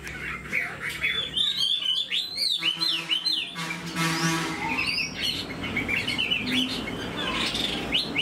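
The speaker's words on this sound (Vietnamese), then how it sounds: "chú chim nó vẫn thể hiện tốt và hót rất là hay" A Chinese hwamei songbird of the three-yellow type sings a loud, close, varied song of quick whistled phrases, trills and chirps that continues without pause.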